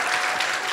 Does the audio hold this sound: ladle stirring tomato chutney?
no